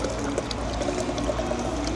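Water pours steadily into a bottle of drink mix, about 20 ounces, in a continuous close gurgling stream with no voices, filling the whole short span.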